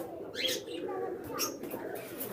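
A pigeon coos softly in low, throaty bursts, with some sharper chirps and rustling mixed in nearby.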